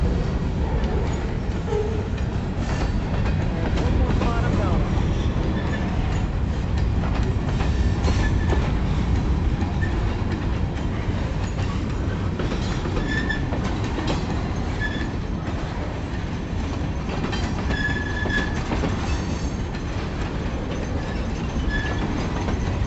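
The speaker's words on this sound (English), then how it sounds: "Long train." A long Kiamichi Railroad freight train rolls past steadily in Idabel, Oklahoma, wheels clattering over the rails with occasional faint squeals, a continuous loud rumble throughout.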